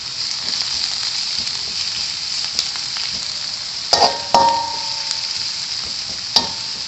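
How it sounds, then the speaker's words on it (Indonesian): Mie goreng noodles sizzle steadily in a hot pan, a continuous bright frying hiss with a few louder sputters and clinks of stirring near the middle and end, with no talking. "saya masak mie goreng."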